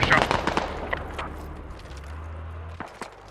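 Rapid gunfire in a US Army squad game set in Afghanistan cracks in a quick burst of close shots at the start, then a single loud report near the end, with a low rumble between.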